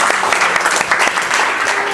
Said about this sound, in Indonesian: Kita beri tepuk tangan sekali lagi untuk kelompok 2.